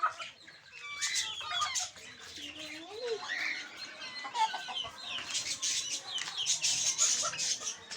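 Pet Sil chickens and roosters clucking and calling close by at a home coop, brooding hens among them, with layered overlapping clucks and crowing tones throughout and no talk.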